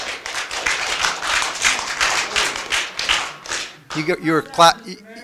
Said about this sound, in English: You were clapping for me for saying we got the message